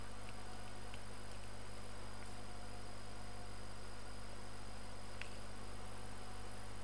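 Large computer fan running in the background of a scrapbooking workspace: a constant low hum with broadband hiss, steady and unchanging throughout, with no speech.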